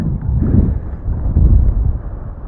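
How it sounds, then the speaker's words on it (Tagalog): Strong wind on a highway construction road in San Pablo, Laguna, buffets the microphone with a low, gusty rumble that rises and falls in waves throughout. "Lakas ng hangin."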